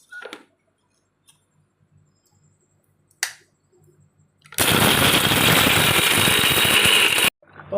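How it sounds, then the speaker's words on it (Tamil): A kitchen mixer grinder whirs loudly for about three seconds as it grinds hibiscus flowers for rasam, a dense steady roar starting abruptly after a few quiet clicks and handling sounds and cutting off just as suddenly. "இப்போ மிக்சியில் இதை அரைச்சிக்கலாமா?"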